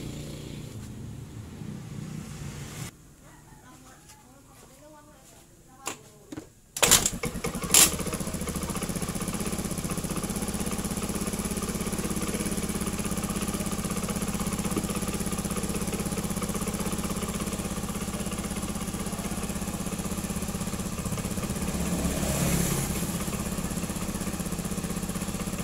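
A Honda Beat or Vario carburetor scooter engine with a faulty charging coil and regulator is kicked into life after a quiet stretch, then settles into a steady, loud idle that runs on unchanged, close by.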